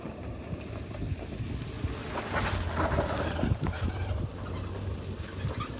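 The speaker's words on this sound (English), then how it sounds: "There's a vehicle passing" Outdoors, a passing vehicle's rumble swells through the middle and then fades, heard over steady wind noise on the microphone.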